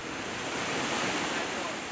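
Rough waves of the Bay of Bengal under a storm warning roar as a dense, continuous surf wash with wind buffeting the microphone, loud and unbroken.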